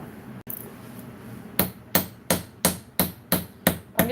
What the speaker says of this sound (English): And I'm going to be using this chasing hammer.